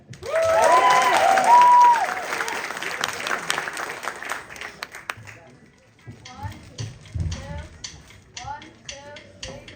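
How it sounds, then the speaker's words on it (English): Audience at a spring student band showcase applauds and cheers for the band the Pebbles, with whistles over a strong burst of clapping that tapers into scattered claps, then sparse claps and taps. "let's give a big round of applause for the Pebbles"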